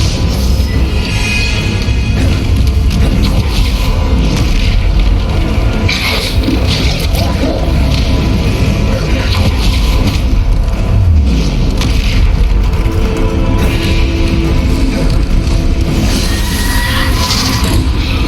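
Bombarda spell explosions in the Hogwarts Legacy video game, heard as dense, loud booms and blasts layered over continuous game sound and music throughout.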